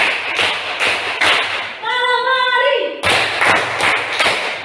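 A group claps hands together in a rhythmic clapping routine: sharp, close claps in bursts at the start and end, with a sustained sung or voiced tone between them.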